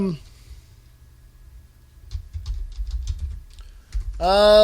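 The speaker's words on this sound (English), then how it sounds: "you're going to hear me typing." Soft keyboard typing clicks in a short, irregular burst, heard close in a quiet podcast room, with a voice cutting in briefly before and after.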